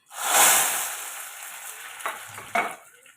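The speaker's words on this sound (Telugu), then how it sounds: "ఇది వేగాక దీనిని మరుగుతున్న పప్పుచారులోకి వేసేయాలి" A hot fried tempering tipped into boiling dal rasam, a sudden loud hiss and sizzle that swells then fades, followed by a couple of spoon scrapes and splashes as it settles.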